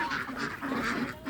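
Ducks being fed, a continuous chorus of overlapping quacks at moderate loudness, nearby and steady.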